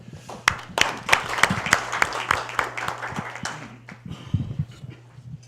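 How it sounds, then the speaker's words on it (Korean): Scattered applause from a seminar audience welcoming a university president, the claps dense at first and thinning out toward the end, with low hum and faint shuffling beneath. "먼저 조선대학의 강동환 총장님을 박수로 초청하겠습니다"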